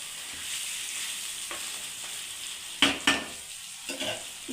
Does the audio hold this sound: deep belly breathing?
no